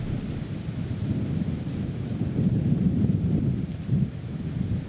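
Violent wind roaring in a low, steady rumble with gusty swells, moderately loud and without voices.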